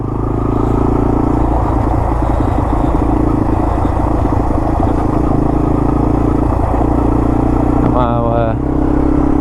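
A Yamaha motorcycle rides through the Talladega National Forest, its engine a steady, loud drone throughout with a brief mechanical change near the end, while voices talk over it.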